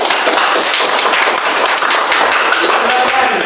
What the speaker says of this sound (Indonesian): kita beri tepuk tangan untuk kelompok Yani